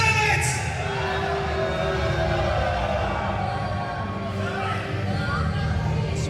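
A crowd at a live wrestling event in Norfolk, a broad murmur with scattered shouts and whoops, heard from within the audience, with a voice carrying over the noise.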